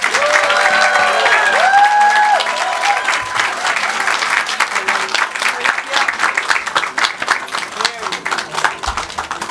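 A conference audience applauds to welcome Secretary Marcia Fudge at a Birmingham redevelopment grant event, dense sustained clapping that starts strong and thins slightly, with a few voices and chatter mixed in.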